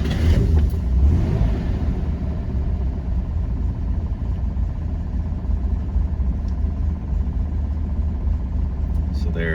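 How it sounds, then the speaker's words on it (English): A 1967 Chevrolet Corvair engine rumbles low and steady close by after starting, settling into a continuous idle with an uneven, throbbing texture. "I'm going to fire up the car here with the new tachometer in there."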